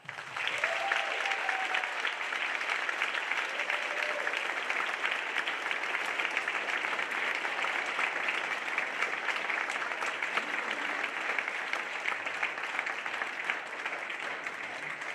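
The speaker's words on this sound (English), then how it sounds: "Go ahead and give them a round of applause." Audience applause at a high school band concert, a steady, sustained wash of many hands clapping that holds at an even level for about fifteen seconds without talk.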